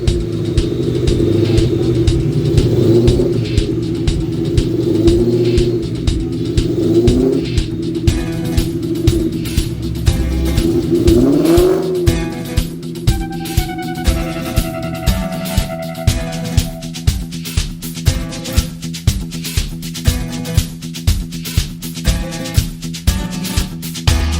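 A Ford SVT Cobra runs on a dyno, its engine a loud, steady rumble that rises and revs in pulses, with rapid rhythmic firing throughout and brief higher whines near the middle; no voices are heard.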